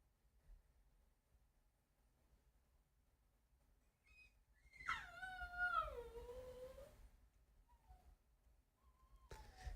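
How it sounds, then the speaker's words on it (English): A dog indoors whimpers with a few soft squeaks, then lets out a rising and falling howl lasting about two seconds, followed by more faint whines in a quiet room. "Man, this dog, I swear."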